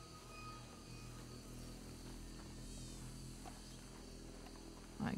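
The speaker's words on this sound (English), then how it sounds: "You hear that mosquito buzzing by?" Mosquito buzzing past in a Wild West video game, a faint thin whine over a quiet ambient night background with steady low hum, no speech.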